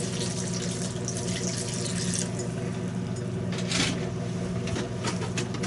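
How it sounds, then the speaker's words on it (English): Water pours steadily onto a potted plant in a garden, a continuous hissing splash that stays fairly loud throughout, with faint birdsong in the background. "And then we'll give it quite a bit more water."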